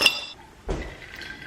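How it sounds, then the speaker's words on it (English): Ice cubes clink against a glass mason jar, a sharp bright strike followed by a second, duller clatter as more ice drops in, close and alone. "add some ice cubes to a mason jar and fill it with filtered water"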